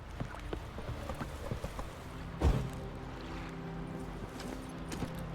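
Roach, a horse in The Witcher 3, gallops in a steady rapid clip-clop of hooves, fairly close, with a louder thud midway and faint game ambience beneath.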